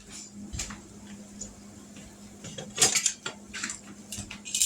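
Metal kitchen tongs clatter against pots and utensils while homemade corn dogs fry in hot oil, giving scattered close clinks and scrapes with no talking.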